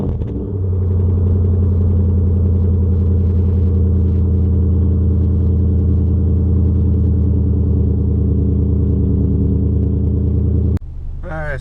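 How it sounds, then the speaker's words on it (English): A 2007 Nissan Titan engine cold-starts at 62 degrees and settles into a loud, steady low rumbling idle that runs nearly the whole time, then drops away abruptly near the end. "let's get a cold start on the Titan real quick."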